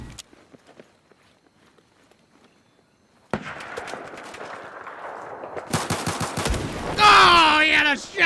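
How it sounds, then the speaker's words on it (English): Shotgun blasts from Battlefield 4 on PS4 break a near-silent stretch: a sharp report, then a cluster of loud, rapid shots amid busy game noise and a rising whine near the end. "Oh, he had a shotgun!"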